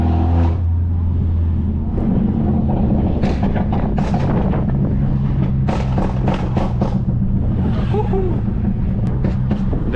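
A turbocharged, straight-piped Mercedes C250 drives along with a loud, continuous engine drone and road noise throughout, while a person talks over it.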